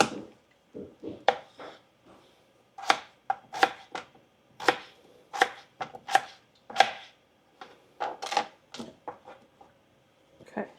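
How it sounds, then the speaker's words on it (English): A knife chopping potatoes on a cutting board, a quick series of crisp, close thuds in uneven bursts with short pauses between runs of cuts. "I'm gonna get the potatoes in here while I'm cutting them up"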